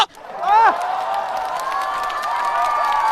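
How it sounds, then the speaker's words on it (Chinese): A studio audience at a Chinese comedy show cheers and applauds, with loud whoops and shouting voices over a steady wash of clapping. "掌声送给这个大哥！"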